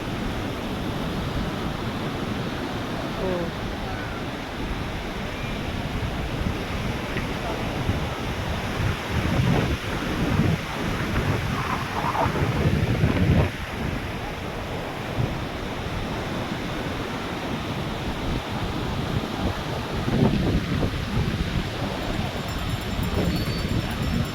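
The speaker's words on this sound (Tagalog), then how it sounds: "Gamuta na lang sila sa sobrang lakas ng alon." Strong ocean surf crashes continuously at Baler beach while heavy wind buffets the microphone, making a dense, unbroken roar with slightly louder swells partway through.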